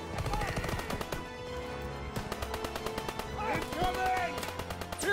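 Dense bursts of rifle and machine-gun fire fill a World War II battle in Call of Duty: WWII, with loud, rapid overlapping shots under voices throughout.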